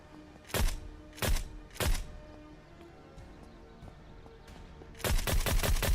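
Three loud, evenly spaced gunshots crack out in the survival game Vein, followed by a quiet pause and then a fast volley of rapid shots, with no talking over the fire.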